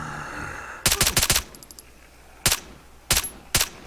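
Gunfire in the video game Arma 3, played with the Ravage zombie mod: a rapid burst of several loud shots, then three more single sharp reports spaced apart, close and punchy with no talking.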